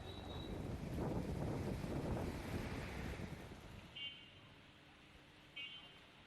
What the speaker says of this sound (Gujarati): કેટલાક વિસ્તારોમાં વરસાદી ઝાપટા સાથે ભારે પવન પણ જોવા મળ્યો.